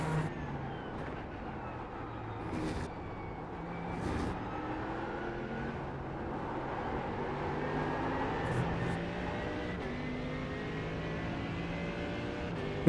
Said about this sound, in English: Sounds like a vacuum on the inside, also like the Corvette